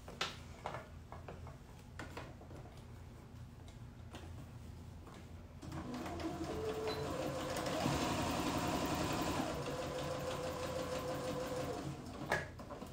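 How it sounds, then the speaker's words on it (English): A sewing machine stitches the side seams and pockets of elastic shorts. A few sparse ticks and handling clicks come first, then a steady close whirring run of stitching that stops near the end. "We're going to sew down the side seams and around the pockets."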